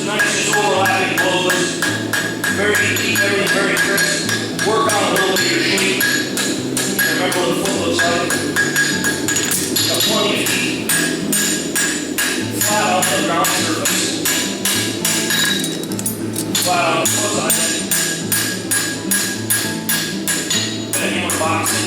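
A farrier at a shoeing clinic hammers a horseshoe, landing rapid, evenly spaced blows in a steady, crisp rhythm that runs the whole time, with a voice talking over it.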